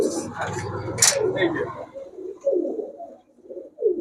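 Giribaz high-flyer pigeons coo in low, throaty rolling phrases at close range, mixed in with people talking nearby.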